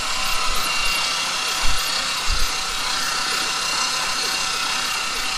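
Mitsubishi 3000GT VR4 with a rebuilt forged 6G72 twin-turbo engine turning over on the starter while dry, a steady mechanical whir with rhythmic whining pulses, fairly loud and continuous throughout.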